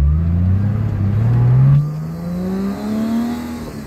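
A car engine revs hard during spirited driving on an empty road, its pitch climbing steadily as it accelerates, then it shifts and the rising drone resumes, close and loud.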